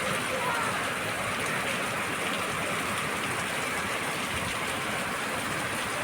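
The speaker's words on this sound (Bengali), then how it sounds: "দেখেন কি বৃষ্টি" Heavy rain falls on city rooftops in Dhaka, a dense, unbroken hiss of downpour heard steadily at a constant level throughout.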